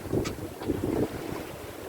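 Steady wind rushes over a sailboat making 6-7 knots on the open ocean under grey, overcast skies between Raiatea and Suwarrow, with gusty swells of microphone buffeting and water noise throughout and no voices.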